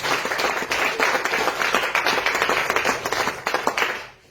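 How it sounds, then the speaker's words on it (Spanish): A church congregation claps hands together in praise, a dense, loud burst of many hands that holds steady and then fades out near the end. "Regale la ofrenda de palmas a aquel que vive en reino para siempre"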